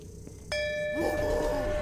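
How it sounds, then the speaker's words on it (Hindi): A bell in a horror video game struck once by accident, a sharp metallic ding that rings on with sustained tones over a low game ambience, no voices. "मैंने घंटी बजा दी गलती से"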